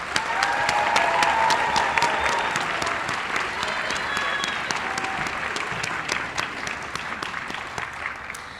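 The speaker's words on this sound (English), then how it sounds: "let's just give one more round of applause for our People's Choice nominees" Sustained applause from an audience at a high school People's Choice awards night, many hands clapping briskly with sharp individual claps standing out, slowly thinning as it goes on.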